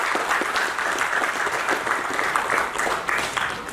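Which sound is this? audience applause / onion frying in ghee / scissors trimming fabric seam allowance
audience applause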